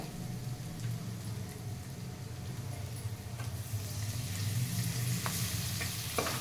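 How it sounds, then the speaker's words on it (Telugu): Tomatoes go into burugula kichidi, a puffed-rice dish, frying in a pan, making a steady close sizzle with soft stirring scrapes that grows a little louder toward the end. "ఇప్పుడు మనం ఇందులోకి టమాటా వేస్తాము."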